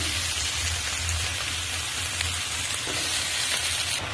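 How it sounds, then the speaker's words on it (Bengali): Malabar spinach leaves hit a hot pan of spiced prawns and potatoes, raising a loud, steady, hissing sizzle that continues unbroken and close throughout, with no talk. "এ পর্যায়ে আমি কেটে ধুয়ে রাখা পুঁই শাকগুলো দিয়ে দিচ্ছি।"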